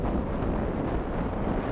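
Strong, cold north wind gusting 25 to 40 knots buffets a sailboat off Finland, a steady broadband roar of wind and microphone buffeting with no pauses, loud and close throughout.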